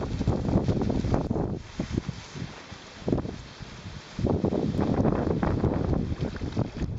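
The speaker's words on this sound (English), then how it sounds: "It's so bloody windy today and northeasterly right on our nose" Strong northeasterly wind blasts and buffets the microphone in loud, uneven gusts with brief lulls, over a faint rush of water from the boat.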